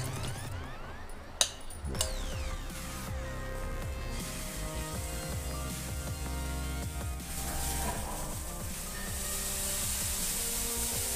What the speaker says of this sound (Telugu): ఇప్పుడు పిండిని ఒకసారి కలుపుకొని వేసుకుందాం.